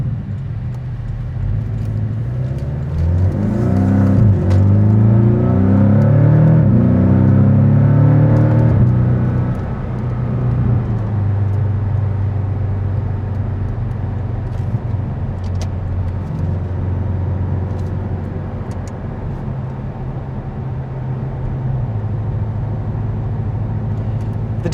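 A 2019 Porsche 718 Cayman with PDK gearbox and a roughly 300-horsepower engine drones steadily while driving, rising in a revving sweep early on before settling into a smooth, even cabin hum.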